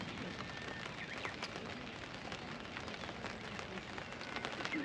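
Steady rain falls at a campsite as a continuous, soft, even hiss of drops pattering on surfaces, faint and close with no talk.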